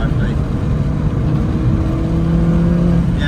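Lively car engine running at sustained revs on the Llandow Circuit race track during a track day, a steady droning hum with subtle pitch shifts throughout.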